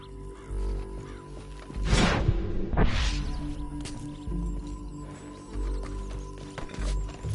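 Horse hooves clip-clop during riding in Red Dead Redemption 2, a steady, close gallop with a loud surge of louder hoof and gear noise near the middle against a continuous game ambience.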